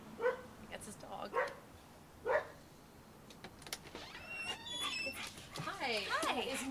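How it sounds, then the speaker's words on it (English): A dog kept at a residence yips and whimpers in short high bursts. Louder bark-like yelps come near the end, with people talking around it. "That's his dog."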